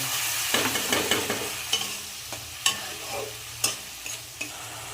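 Ground cumin spice paste being stirred in a hot pan for a Bengali chela fish curry, with a scraping spoon and soft sizzle under irregular clinks and taps, close and moderately loud, no talking.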